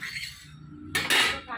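Egg, chopped onion and green chilli being mixed in a bowl for bread omelette, heard as a brief clatter of a utensil against the dish, louder near the end.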